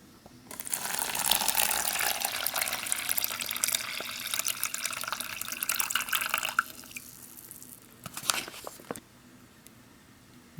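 Water pours steadily into an MRE drink bag for about six seconds, a bright hissing trickle that stops abruptly, followed by a few faint drips and rustles of the bag.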